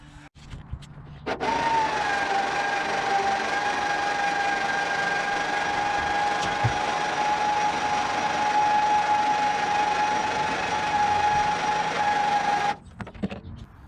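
An electric winch lowers a 6R80 transmission from a Saleen truck. It whines with a steady motor hum and a sustained tone for about eleven seconds, then cuts off abruptly.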